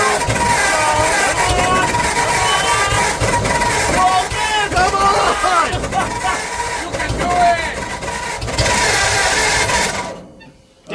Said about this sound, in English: A minute straight of cranking.